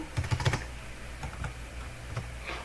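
Several quick clicks come from a computer keyboard as keys are pressed and enter is struck, close by and faint, in a short cluster followed by a couple of sparse taps.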